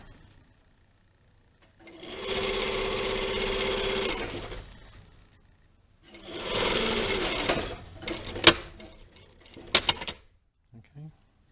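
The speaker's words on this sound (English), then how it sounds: "So that's where I've stopped sewing." A sewing machine stitching a lined jacket vent runs in two bursts of steady rapid whirring, each about two seconds long, followed by sharp clicks and clunks from handling the machine.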